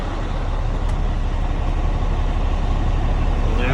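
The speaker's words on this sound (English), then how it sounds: "Just fired the truck up, letting it air up now." A Peterbilt semi truck engine idles after a cold start while building air pressure, producing a continuous loud, close, deep rumble with no voices.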